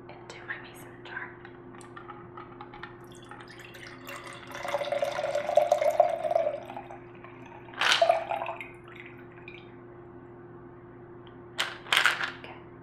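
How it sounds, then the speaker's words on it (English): Cocktail liquid poured from a shaker into a mason jar, close and quiet: a soft trickling pour around the middle, then brief clinks and splashes, with faint whispering in the background. "pour it into my mason jar"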